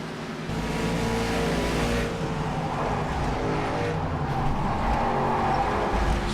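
A race car at Darlington accelerates hard with a steady, loud engine roar, heavy on the throttle, sustained and close without any talking.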